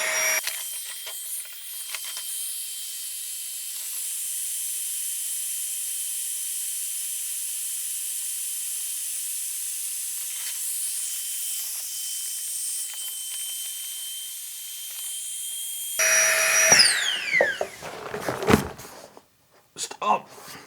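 A Flextail Tiny Pump 2x electric pump inflates a sleeping mat with a steady high whine and airy hiss for about sixteen seconds, then strains and rattles as the mat reaches full pressure before cutting off.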